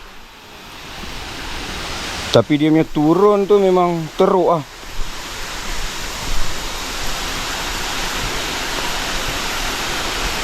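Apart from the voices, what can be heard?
Alor Naga waterfall on Gunung Jerai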